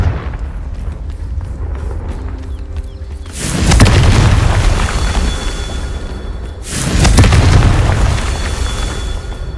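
Two heavy, booming Confringo spell explosions go off in a Harry Potter video game, each a loud deep blast with a rumbling tail over a continuous background rumble.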